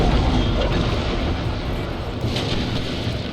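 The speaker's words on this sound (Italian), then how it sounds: "Qua invece vere e proprie palle di cannone." Naval cannon fire from sailing ships in the PC strategy game Empire: Total War during a storm at sea, a continuous rumbling roar of booming broadsides and deep blasts, loud and dense with no clear pauses.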